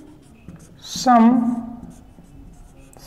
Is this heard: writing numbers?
yes